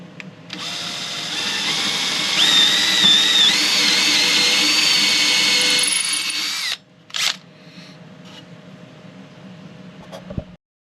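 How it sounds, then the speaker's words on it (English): A power drill whines steadily for about six seconds while boring holes in a wooden pedalboard, then stops, followed by a brief second burst and quiet handling sounds. "Now I'll just drill out the holes."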